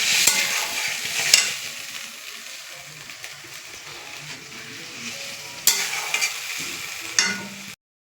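Fish curry with potatoes simmers and sizzles in a pan, interrupted by occasional loud scraping stirs of a spatula, close and without talk, ending abruptly.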